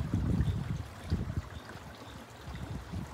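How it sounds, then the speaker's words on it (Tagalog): The Hansi River flows far below a mountain valley, a soft continuous rushing and burbling that stays moderately faint and steady throughout, with no talk. "Yan yung Hansi River."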